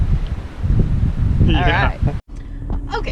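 Strong wind buffets the microphone at a lakeside campground in the Lake Mead recreation area, a steady low roar running under a few spoken words, briefly cutting out before resuming.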